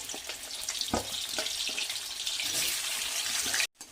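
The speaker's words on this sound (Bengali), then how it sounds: "আলুটা আমি খুব ভালোভাবে ভেজে নেব আগে" Potatoes fry in mustard oil in a wok, giving a close, steady sizzling hiss with a few sharp crackles and stirring knocks before it cuts off abruptly near the end.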